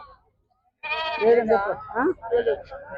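Sheep and lambs bleat loudly and close at a sheep and goat market in Chillakallu on a rainy day, a run of wavering cries with people talking alongside.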